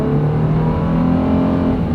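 A heavy car with a big engine pulls away on a small drag strip, its deep steady engine roar loud and close as it accelerates and shifts smoothly.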